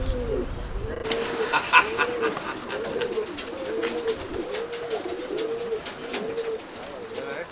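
Pigeons cooing in a cramped space, a steady series of soft repeated coos close by, with occasional rustles and faint background noise.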